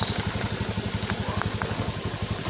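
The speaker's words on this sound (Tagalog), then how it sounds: "Hanggang dito na lang yung motor natin guys." A motorcycle engine running close by, a loud rapid pulsing throb at a steady idle-like pace with no speech over it.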